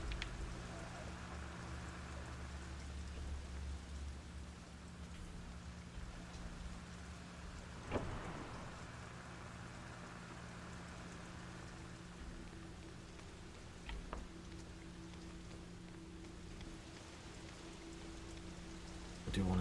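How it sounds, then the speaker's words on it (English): Rain pounding on thin window glass in the Fatal Frame game, a steady soft patter under a low droning hum, broken by a few faint knocks. "Rain is pounding on the thin glass of window."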